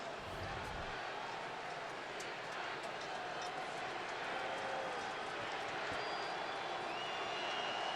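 Road stadium crowd at a Cowboys at Giants football game, a broad continuous roar of cheering that swells gradually over several seconds, with a commentator talking over it.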